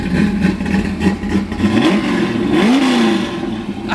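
A 1965 Ford Mustang R fastback runs on race fuel with a loud, close, lumpy idle, revving up and dropping back twice in rising and falling engine sweeps.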